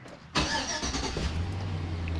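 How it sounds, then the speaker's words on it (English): A 2005 GMC Sierra truck engine cranks and catches with a sudden loud burst, then settles into a steady low idle, close by. "I'm going to start the truck up"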